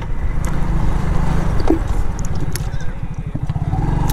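Hero Honda Super Splendor motorcycle being ridden, its single engine chugging in a close, loud, rapid pulsing beat mixed with wind and road noise.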